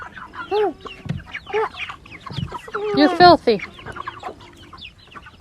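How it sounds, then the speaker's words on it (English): Chickens clucking and squawking in short bursts close by, a lively flock calling over one another while a person speaks briefly between the calls. "Yes. Chickens."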